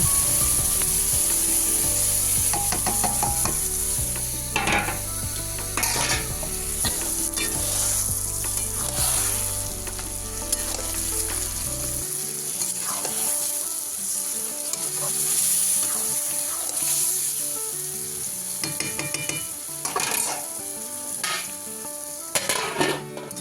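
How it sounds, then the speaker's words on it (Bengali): Marinated chicken sizzles loudly in a pan with onion and tomato, hissing continuously while it is stirred with repeated scrapes and clinks of a utensil against the pan, close up and with no talking. "এই যে ম্যারিনেট করে রেখেছিলাম মাংসটা, এটা আমি এখন দিয়ে দিলাম। আর আমি এটা এখন কষিয়ে নেব।"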